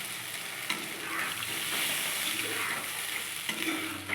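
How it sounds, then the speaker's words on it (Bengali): Water poured into a pan of spiced curry with turmeric brings a steady, loud sizzling hiss and bubbling, close up, with occasional faint clinks, and nobody talking. "এবার দিয়ে দেবো সামান্য একটু জল।"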